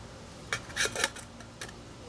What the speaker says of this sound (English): Put your lid on.